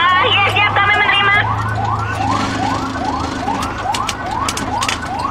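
An ambulance siren wails through a disaster-response simulation, its rising sweeps repeating in a steady cycle, loud and close over a low engine hum, with a brief higher warbling tone at the start.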